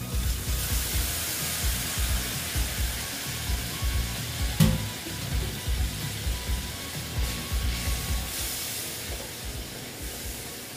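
Spices sizzle and fry steadily in a pan for a vegetarian potol and chhana curry, a continuous close hiss with small crackles and a brief louder spatter midway, no voices.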